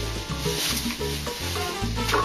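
Arborio rice being stirred in hot oil in a pan, giving a continuous, close, dense sizzle with scraping stir movements throughout.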